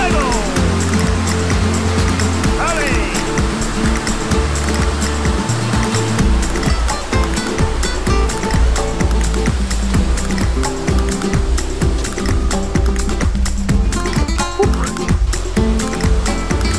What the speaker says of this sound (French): Super les cascades, top.